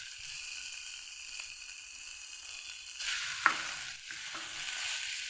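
Chili powder and turmeric fry lightly in oil for mustard eggplant, a soft steady sizzle that brightens midway as stirring begins, with a brief scrape, close and moderate.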